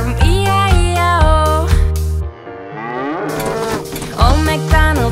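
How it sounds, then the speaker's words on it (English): A cow moos within a bright nursery-rhyme arrangement of the farm song, loud sustained lows sitting over a bouncy musical backing, with the moo sweeping and bending in the middle before the tune resumes. "And on this farm he had a cow, E-I-E-O. With a moo moo here and moo moo there."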